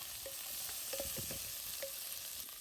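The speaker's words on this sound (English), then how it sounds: "frying with the food" Food fries and sizzles in a pan over an outdoor bush cooking fire in Jamaica, a steady faint hiss broken by a few brief stirring scrapes and clinks, with no voices.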